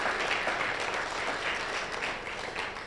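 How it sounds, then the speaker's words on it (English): A conference audience gives a final round of applause for a panel, a dense, steady wash of clapping filling the whole moment without a break. "let's do a final round of applause for the panel"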